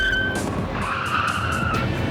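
A car brakes hard and its tires skid loudly across pavement in a drive shaft test, a sustained screeching squeal close by with engine noise beneath and no talking.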